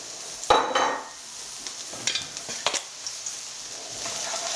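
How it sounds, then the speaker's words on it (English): Finely chopped mushrooms frying in hot olive oil in a pan, a soft sizzle broken by a few brief scraping stirs and utensil clinks against the pan, close and fairly quiet. "we'll get the olive oil nice and hot into there, into the olive oil, some finely chopped mushrooms"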